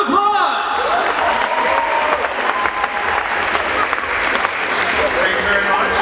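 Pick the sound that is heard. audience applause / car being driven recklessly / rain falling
audience applause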